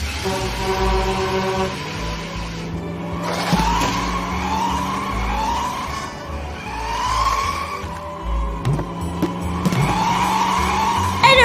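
Toy race cars whine and skid continuously as they race around red cones, with rising and falling motor tones and squealing tires layered loudly over a steady hum.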